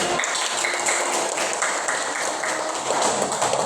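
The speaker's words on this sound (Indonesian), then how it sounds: "Oke, tepuk tangan." A classroom group claps in continuous, dense applause for several seconds, busy and fairly loud with no voices on top.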